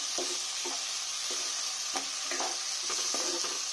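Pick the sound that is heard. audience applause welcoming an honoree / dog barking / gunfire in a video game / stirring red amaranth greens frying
stirring red amaranth greens frying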